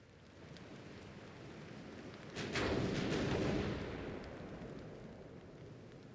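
Naval guns in Ultimate Admiral: Dreadnoughts fire a volley. A sharp crack opens a heavy booming roar that swells and slowly fades over a constant ocean-like hiss.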